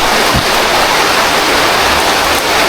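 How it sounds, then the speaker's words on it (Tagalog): A dense, loud roar of heavy rain pours down continuously, a thick wash of noise with no talking. "Lakas ang ulan oh"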